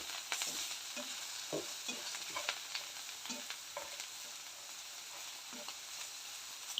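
Asafoetida frying in oil in a pan for kovakka puli pickle, a soft continuous sizzle broken by repeated scraping strokes of a spoon stirring, quiet and close with no voices.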